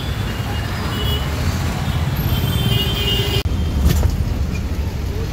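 Road traffic jam with a truck and other vehicles nearby, a loud continuous rumble of idling and creeping engines, with a brief break in the middle.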